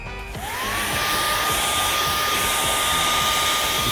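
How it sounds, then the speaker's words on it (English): A blow dryer drying gesso on a canvas starts up and then runs as a loud, steady, close whir for the rest of the clip, with no talking. "blow dryer"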